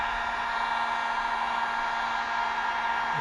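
A steady blowing whir with a constant tonal hum from a heat gun running continuously nearby.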